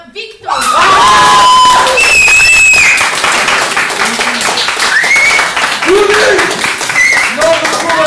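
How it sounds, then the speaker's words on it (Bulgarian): Applause and cheering for Viktor at a class awards event: loud, sustained clapping from a crowd with children shouting and calling out over it throughout. "И накрая вашите аплодисменти за Виктор"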